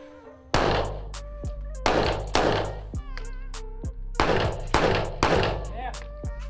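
Loud shotgun blasts at an outdoor shooting range, five or six sharp reports spaced unevenly over several seconds, each with a short ringing decay, and a faint voice in the background.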